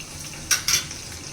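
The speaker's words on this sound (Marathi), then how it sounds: "कढीपत्त्याची 3-4 पानं ॲड करायची आहेत आपल्याला" Curry leaves hit hot oil with two short, bright bursts of sizzling spatter close by, over a low background hiss.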